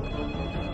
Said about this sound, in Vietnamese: Điện thoại sao kìa?